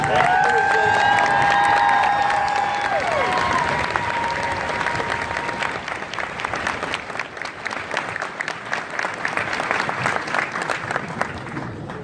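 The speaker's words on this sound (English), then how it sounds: "Let's give them a round of applause" An audience at a ceremony honoring veterans, with a military band present, applauds in a loud, sustained round of clapping and light cheering. A few sustained tones sound at the start, and the clapping gradually thins toward the end.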